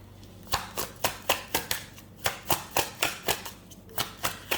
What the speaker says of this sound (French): On va encore prendre 3 cartes.